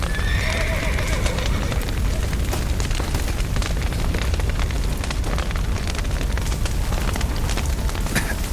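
Horses in The Witcher 3 video game neigh and whinny early on, with hooves clip-clopping beneath a dense, continuous wash of game ambience and crowd noise that stays loud throughout.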